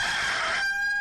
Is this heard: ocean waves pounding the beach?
no